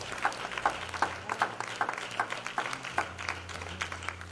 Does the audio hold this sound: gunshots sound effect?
no